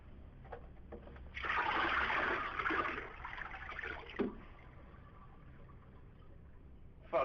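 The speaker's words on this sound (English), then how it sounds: "I'm gonna flush my toilet with a bucket of water." Toilet flushed by pouring in a bucket of water, a rushing gurgling surge of water lasting a few seconds before a quieter trickle and a final knock.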